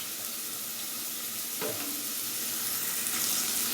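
Onions sprinkled with salt fry in a pan with a close, continuous sizzle, and one brief clink of the spoon or pan comes partway through.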